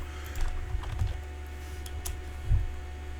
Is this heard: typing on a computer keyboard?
yes